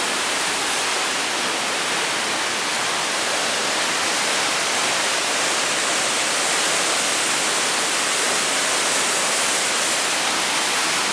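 Steady, dense roar of a waterfall in the barrancas of Cuernavaca, Morelos, broadband and constant throughout, with no voices or other sounds breaking through.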